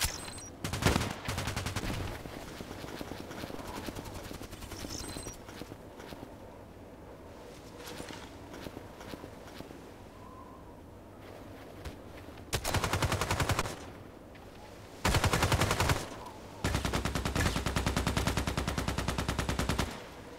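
Suppressed Vintorez rifle fire in a first-person shooter game, heard as several sharp bursts of rapid shots. Some come early and three loud sustained volleys arrive near the end, with quieter stretches of background in between.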